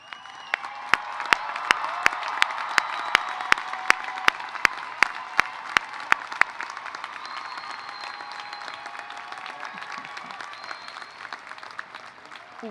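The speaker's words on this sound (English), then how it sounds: "would you please cheer and stand if you are able?" Graduates at a university commencement cheering and applauding, a broad sustained wash of clapping and crowd noise from a large audience, with a string of sharp regular clicks through the first half.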